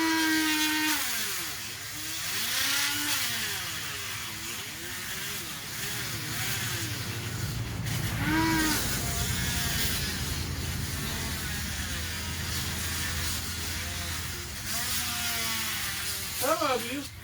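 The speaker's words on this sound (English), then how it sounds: "Some of you may have a more efficient way to cut PVC pipe, but this is the tool that I came up with the quickest today" A power tool cuts PVC pipe for a homemade kayak rack on a tall 4x4 truck, a steady loud whining drone that runs for the whole stretch with shifting pitch, close by.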